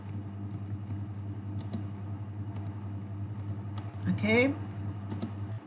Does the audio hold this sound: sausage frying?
no